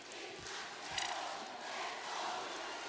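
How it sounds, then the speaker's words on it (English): A loud section of UST fans cheers and roars during a college basketball game at the Phil Sports Arena, a dense continuous crowd noise with a few louder shouts rising out of it. "And the UST crowd, a minority here in the Phil Sports Arena, but they're seemingly so loud right now"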